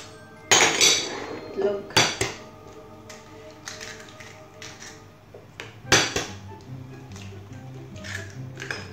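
Eggplant omelette ingredients with sardines being mixed in a metal bowl: sharp clinks and scrapes of a utensil against the bowl, a few loud knocks spaced irregularly, with brief talk.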